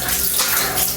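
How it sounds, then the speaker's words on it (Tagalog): Water pours steadily into a bathroom floor drain at a house under construction, a dense, continuous close rush lasting the whole short moment. "dito talaga siya hulog lahat sa kanyang floor drain."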